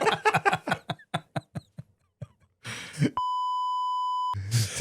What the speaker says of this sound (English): Just a bit late on the buzzer.